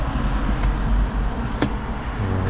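A car engine idling steadily at a shop repairing a stone chip in the windshield, a close low rumbling hum with one brief sharp click partway through.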